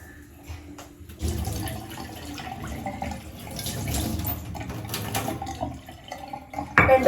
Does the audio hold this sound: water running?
yes